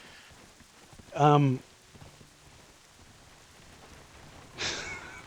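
Rain falls in the game Black Desert Online as a soft, steady patter in the background, briefly interrupted by a short hesitant voice and a breathy exhale.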